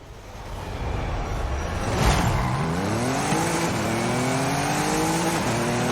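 Race cars in a Horizon Mexico race in Forza Horizon-style play, engines revving up together at the start with rising, layered whines, loud and close throughout.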